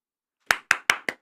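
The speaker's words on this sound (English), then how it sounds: "Let's do a round of applause" Four sharp, evenly spaced hand claps ring out close by after a moment of silence, each one crisp and quickly fading, with no voices.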